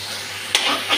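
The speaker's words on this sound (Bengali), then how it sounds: "মশলাটা ভালোভাবে ভাজা হয়ে গেছে" A spice paste with bay leaf, green chilli and five-spice seeds fries and sizzles in a pan as it is stirred, a close, steady hiss with two sharper bursts of sizzle.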